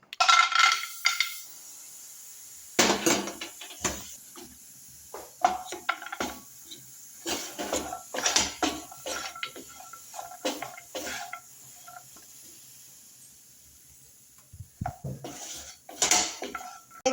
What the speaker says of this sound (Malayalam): ബദാം വറുത്തെടുക്കുന്നു.